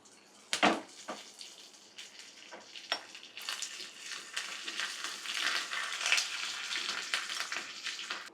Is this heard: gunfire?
no